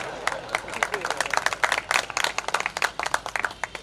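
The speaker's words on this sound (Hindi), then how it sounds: "मूल नायक के लिए ऐसी मरी मरी तालियां" Thin, scattered clapping from a seated audience at a Hindi religious discourse, a ragged patter of individual claps without building into full applause, fairly close and moderate in level.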